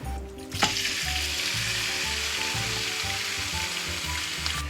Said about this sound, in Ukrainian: На розігріту пательну наливаємо трошки олії і підсмажуємо там курячі потрохи.